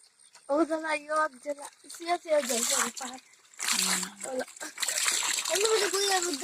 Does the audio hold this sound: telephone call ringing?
no